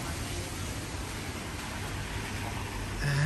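Sudden heavy rain pours down in Medjugorje, a dense, constant hiss close by that thickens slightly near the end.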